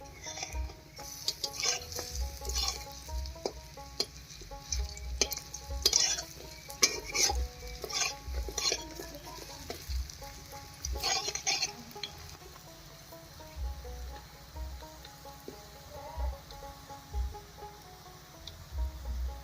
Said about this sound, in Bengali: বড়াগুলো কিন্তু আমি একটু ছোট ছোট করে ভেজে নেব।